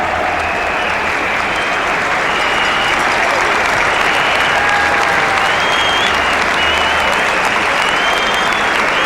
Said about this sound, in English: Warm applause for this beautiful opening bat from Gordon Greenwich.